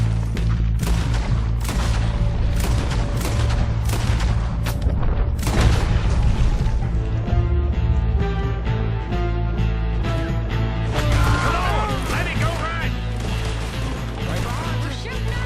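Gunfire in a bank robbery shootout in Red Dead Redemption 2, loud and continuous, with rapid overlapping shots, booming blasts and crashes over a low droning score.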